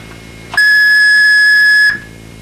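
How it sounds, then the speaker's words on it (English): Dual tones of 1700 and 1100 hertz from a frequency generator sound together as a loud, steady, shrill beep lasting just over a second, alone against faint background hum. "dime tones are composed of a 1700 and 1100 hertz tone"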